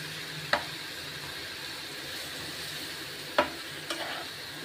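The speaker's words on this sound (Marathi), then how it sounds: "आता हे मंद ह्याच्यावरच मी सगळे मसाल्यांमध्ये ह्याला मिक्स करून घेते" Bitter gourd with spices and salt is stirred in an oil-fried pan over low heat, giving a steady soft sizzle with a few sharp spoon scrapes, close and alone without talk.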